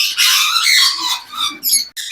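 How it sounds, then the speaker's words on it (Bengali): A pair of blue-throated conures giving harsh, close squawks in several rapid bursts with short gaps between them, loud and clear with no talking. "আপনারা কিন্তু দেখতেই পাচ্ছেন খুবই সুন্দর চমৎকার এক জোড়া ব্লু থ্রোটেড কোনোর আনকমন এক জোড়া পাখি"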